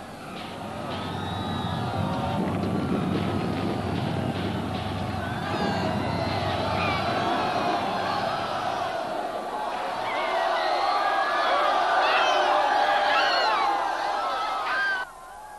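A large crowd camped at night on the parade square outside the palace gates makes a loud, dense murmur of many voices with shouts, rising and swelling toward the end, set under a dramatic soundscape.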